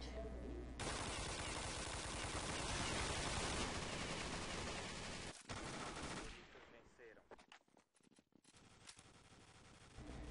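Rapid automatic gunfire from an M4-style rifle in Counter-Strike on the Dust 2 map, loud bursts that fill the first few seconds before breaking into scattered, fading shots.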